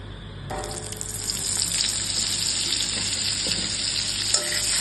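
Butter dropped into hot white oil in a pan, bursting into a bright, loud sizzle that holds steady for several seconds, close up with no talking.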